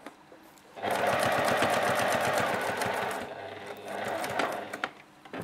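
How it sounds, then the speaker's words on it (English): A Juki TL-2010Q sewing machine basting layers of fabric together runs in two bursts of fast, even needle clatter and motor whir, close and loud, with a brief pause between runs. "I'm just basting it, so holding the layers together."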